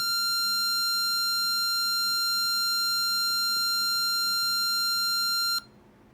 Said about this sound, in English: if I press this button, it'll turn on the alarm, and then the alarm will stay on for a certain number of seconds and then turn off.